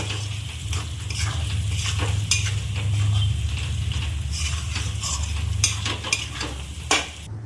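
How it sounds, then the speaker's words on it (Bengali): Potatoes frying in spiced oil while being stirred: a dense, loud, continuous sizzle with scraping strokes of a spatula throughout, close up, no one talking. "এই সময় এই আলুগুলো দিয়ে দিলাম। এই যে আলুগুলো দিয়ে দিলাম। আলুগুলো একটু কষানো হয়ে যাবে।"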